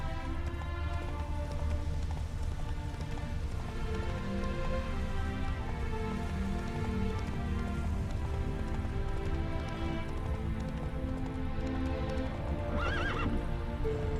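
Roach, a horse in The Witcher 3, gallops with steady loud clip-clop hoofbeats and neighs, over a constant game ambience with a faint rain-like hiss.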